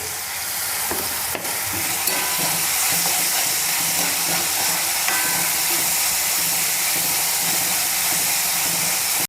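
Green chillies hit hot tempering oil for a soybean curry, giving a loud, steady, close sizzle and hiss that runs without a break, with faint stirring clinks.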